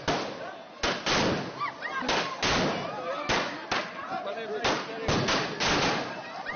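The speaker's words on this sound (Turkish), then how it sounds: "İstanbul'daki sokak düğününde patlatılan fişekler ok gibi fırladı" Fireworks go off at a street wedding in Istanbul, a rapid series of sharp bangs and thuds, some close and loud, with crackling and crowd voices in between.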